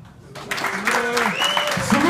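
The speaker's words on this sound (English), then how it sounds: "Applaud, bitches." An audience at a debate event breaks into applause that swells after a brief pause, with clapping mixed with cheering and chatter from the crowd.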